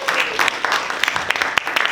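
A crowd at a comedy club show claps and cheers for the host, a steady patter of applause under a voice speaking over it.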